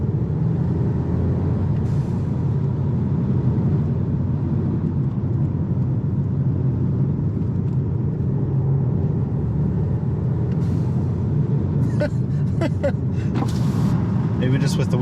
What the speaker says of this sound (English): You can even hear the actual turbo noise this time. It actually flutters with the windows up.